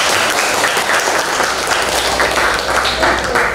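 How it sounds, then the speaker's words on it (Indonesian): A class of students applauds a presenting group with dense, steady clapping, close and loud, over brief low background sounds. "terima kasih kelompok 3, beri tepuk tangan."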